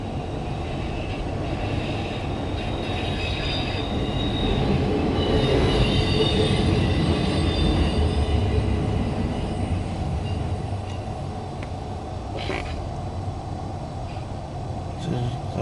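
CSX Q216 loaded autorack freight train rolling past at close range, a steady heavy rumble of rail cars with faint wheel squeal, continuous and loud throughout.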